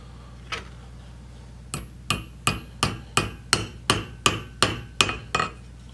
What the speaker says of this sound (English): Now we're going to go in with our steel wedge.